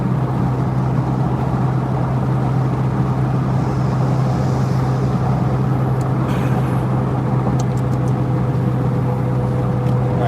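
A DeLorean time machine car climbs a highway on-ramp, its engine giving a steady droning hum over constant road and wind noise from inside the cabin, loud and unbroken throughout.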